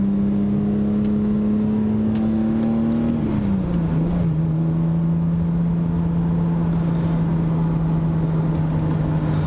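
A Toyota MK2 Supra drives along with a loud, steady in-cabin engine drone that holds a constant pitch, dips briefly as it shifts, then settles into a lower, even cruise.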